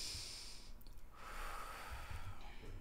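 A deep breath drawn in and let out during an occipital lift treatment, heard as a close, soft inhale and exhale with breathy, snorting texture in a quiet room.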